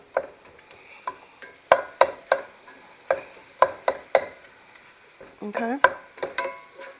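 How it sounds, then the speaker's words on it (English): Ground beef is stirred and broken up in a hot pan, with repeated sharp scraping knocks from a utensil over a faint sizzle, and one brief spoken word. "Now you want to mince the meat up really well. You want to cook it down until it's crispy."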